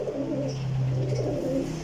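A Lakha pigeon, a young bird from a first clutch, coos in low, repeated throaty phrases, close and steady with a soft hum of background noise and no talking.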